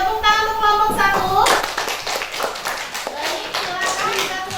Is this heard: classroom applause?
yes